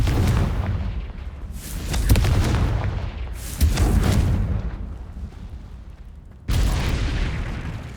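A Confringo blasting spell from the video game Hogwarts Legacy sets off several loud, booming explosions in quick succession. Each burst has a rumbling tail that fades into the next blast.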